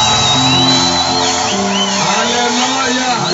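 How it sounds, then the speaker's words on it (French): A church congregation at a French-language preaching service shouts with joy, a loud, dense roar of many voices with whoops and high cries that carries on without a break. "Est-ce que je peux entendre les cris de joie?"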